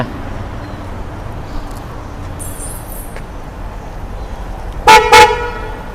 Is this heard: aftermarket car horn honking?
yes